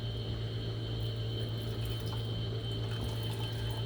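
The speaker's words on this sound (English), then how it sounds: "I'm going to add some more water to this dye." Water pours steadily into a cup of dye, a continuous gentle splashing fill under a faint constant hum.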